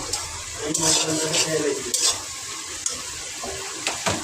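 Spices and cucumber sautéing in a pan, with a steady close sizzle and the repeated scrape and clink of a utensil stirring against the pan.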